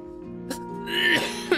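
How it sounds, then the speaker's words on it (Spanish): A Baldur's Gate III player coughs a couple of times, short breathy bursts close to the mic over quiet game music. "que me da la tos."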